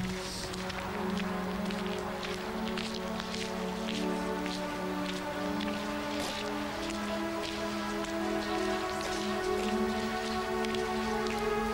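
Steady rain falls outside during a tense scene in a TV drama, a continuous dense patter with scattered drip-like ticks, steady and moderately loud throughout, with a low tonal music bed running underneath.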